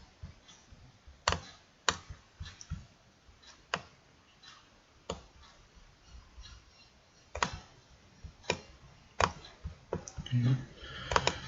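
Sharp mouse clicks and keyboard key presses snap out one by one at uneven intervals across a quiet room, close and distinct, with a little soft talking and more rapid clicking toward the end.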